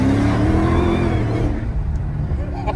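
Modified Hellcat with a supercharger, engine loud and close as it accelerates, a rising whine riding over the rough roar before the pitch eases and the sound settles lower.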